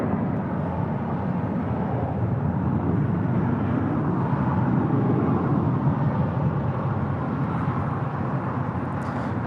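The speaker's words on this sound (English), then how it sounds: "That was JetBlue Airways flight 1124 heading to JFK at A321." A JetBlue Airbus A321 departs as flight 1124 bound for JFK, its engines a loud, sustained broadband roar that holds steady throughout with no voices over it.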